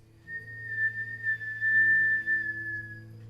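A single drawn-out whistled exhale through pursed lips during a breathing exercise, a steady clear tone lasting about three seconds, close and fairly quiet over a low background hum.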